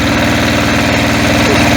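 Motor Sich MB-9DE walk-behind tractor engine running close and loud, a steady, rapid knocking idle thump that continues without pause.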